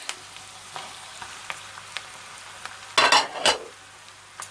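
Ground meat hitting a hot pan for a baked eggplant oturtma, a loud sizzling burst with stirring clatter after quieter scattered utensil taps over a low steady hum.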